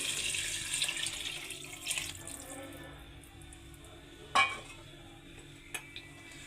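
Water is poured into a cooking pot while making vegetable biryani, a soft rushing splash at the start that fades, then a couple of faint clinks in a quiet kitchen.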